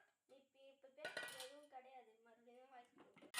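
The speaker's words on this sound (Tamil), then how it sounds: "இப்போ வந்து ஜார் எடுத்தாச்சு" A mixer grinder jar, used for banana juice, is lifted out and handled with a short burst of clattering and clinking, heard close and surrounded by humming tonal sounds.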